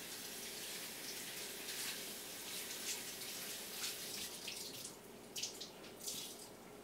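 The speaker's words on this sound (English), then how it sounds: "I'm just going to rinse my cloth a little bit" Tap water runs steadily into a sink while a cloth is rinsed under it, a faint continuous stream with a few brief splashy bursts toward the end.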